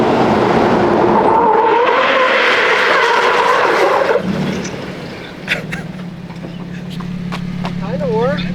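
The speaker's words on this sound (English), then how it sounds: "he wants to try to lock up his brakes, and when we just did it the first time there, the whole back end like slid out" A Toyota Tacoma rock crawler skids with its brakes locked, a loud tire squeal and engine roar lasting several seconds, then the vehicle settles into a low idle while people talk nearby.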